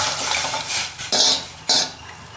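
A spoon stirs kavuni rice porridge in a pot, with a soft continuous churning and two sharper scraping strokes against the pot, close and fairly loud.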